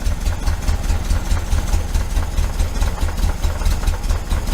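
A 1973 Volkswagen Super Beetle engine with Dellorto FRD 34B carburetors idling with a steady, rhythmic low chugging pulse, close and fairly loud, with no voices.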